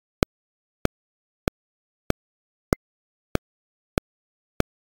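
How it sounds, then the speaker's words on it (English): Custom legacy MPC, ASR and SP1200 style metronome in Maschine 2.0, ticking eight evenly spaced sharp clicks about every 0.6 seconds, close and clean over silence, alternating downbeat and upbeat sounds. "So now, if I close it, my metronome sounds like this."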